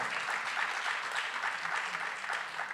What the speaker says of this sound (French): J'apprécie que vous applaudissiez Olivier Faure